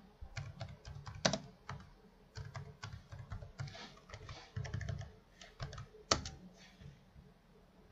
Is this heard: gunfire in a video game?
no